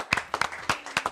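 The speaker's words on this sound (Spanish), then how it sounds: "antes de decirle buenas noches a Florencia, darle un fuerte aplauso" A small TV studio audience claps in a sparse, uneven patter of individual hand claps, close and moderately quiet, over about a second.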